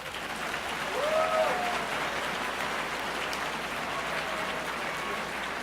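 Sustained audience applause at a national civics competition awards ceremony, a steady wash of clapping from a large crowd filling the whole stretch, with faint background voices.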